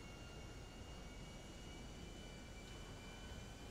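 A plane's engine in GTA 5 drones as a steady, even roar of broadband noise with faint tonal whine, continuous and unchanging throughout, with no voices present.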